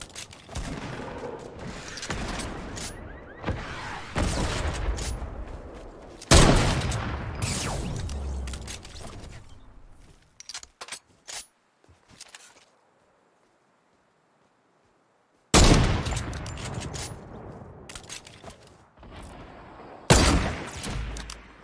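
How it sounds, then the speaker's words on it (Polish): Bursts of rapid gunfire in Fortnite, including AWP sniper rifle shots, loud and dense, broken by a brief silent pause before more shooting resumes. "To był dobry strzał z AWP,"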